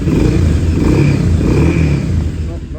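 A 2002 Yamaha BT 1100 BullDog motorcycle engine runs loudly and steadily after ignition, its pitch rising and falling slightly as it revs, with a rough low rumble throughout.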